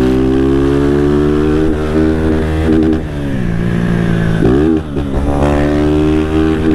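A Honda Fan 160 motorcycle with a Dore exhaust revs close by, a steady throaty engine note rising and dipping through several throttle blips with no one talking.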